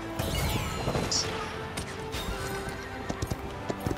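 A horse whinnies and gallops in the Paladins video game, with a shrill neigh early on followed by rhythmic hoofbeats and scattered impact sounds, fairly close and clear.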